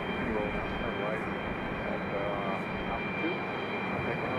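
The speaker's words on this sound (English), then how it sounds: "our other 757 is on the move along with an American Airlines A321" A Boeing 757 and an American Airlines A321 taxi uphill toward runway 23 left at Raleigh-Durham International, giving a continuous mid-distance jet-engine whine and rumble at a steady level.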